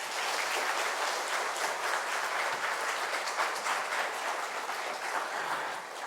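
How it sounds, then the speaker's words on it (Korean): A church congregation at a Sunday afternoon worship service bursts into loud, dense applause welcoming a missionary from Cambodia, sustained without a break for about six seconds. "큰 박수로 함께 환영하겠습니다."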